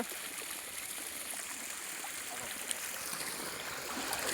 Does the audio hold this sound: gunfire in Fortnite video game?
no